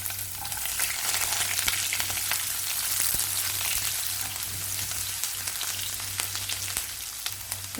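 Onions sizzle and fry in sesame oil in a kadai, a steady, close, bright crackle with occasional stirring clicks, continuous and without any voices.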